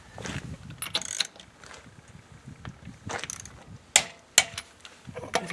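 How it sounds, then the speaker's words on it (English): A torque wrench tightens the lug nuts on a Mustang GT wheel, giving a few sharp metallic clicks and ratcheting snaps amid quieter rustling and handling noise, close by with no talk. "we're going to torque these down to 100 foot-pounds"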